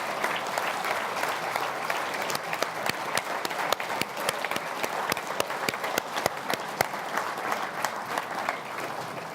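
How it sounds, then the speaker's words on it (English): An audience at a formal awards gala dinner claps in a dense, sustained round of applause, with sharp individual claps standing out against the steady wash of the crowd. "Let's give them a big round of applause."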